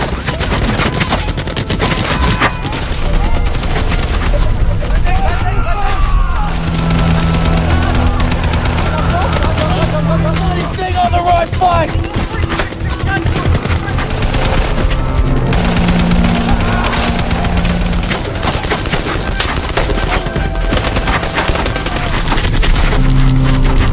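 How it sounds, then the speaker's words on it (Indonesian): Continuous, dense machine-gun fire in battle with rapid bursts and booms fills the scene, loud and sustained, with voices mixed in under the battle noise, from a war film. "tiba-tiba mereka ditembaki musuh menggunakan tembakan mesin dari arah depan"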